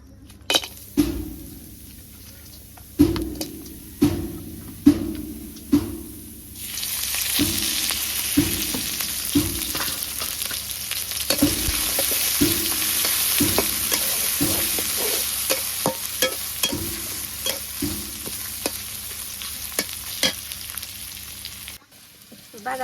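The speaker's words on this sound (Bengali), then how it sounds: "না করবো পেঁয়াজ কষে সব কিছু দিয়ে দিই।" Onions being sautéed in a pan on a village kitchen stove, with a series of spaced spoon knocks and clinks against the pan at first, then a rising steady sizzle as stirring continues close by, no speech.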